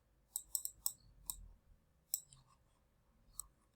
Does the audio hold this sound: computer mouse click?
yes